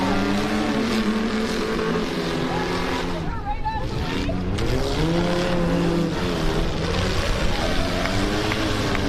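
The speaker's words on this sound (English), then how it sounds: "Let's go racing, boys and Isabel." Demolition derby cars roaring off the start of an autocross feature race, loud overlapping engines revving and droning continuously with pitch rising as they accelerate, while an announcer talks over the noise.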